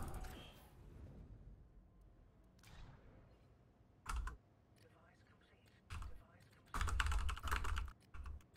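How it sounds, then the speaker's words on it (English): Keyboard typing on a computer during an Industries of Titan game session, heard as short clicky bursts near the mic: one brief burst early, another mid-clip, then a longer dense flurry of keystrokes near the end. "Sorry for the typing."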